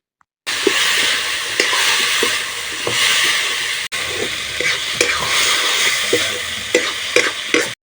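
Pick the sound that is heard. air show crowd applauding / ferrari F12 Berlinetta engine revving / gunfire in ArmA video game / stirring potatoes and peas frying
stirring potatoes and peas frying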